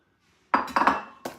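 A utensil clinks and scrapes against a dish while crushed Oreos are stirred into 8 tablespoons of melted butter for a dessert crust, heard as a few close, sharp knocks after a moment of quiet.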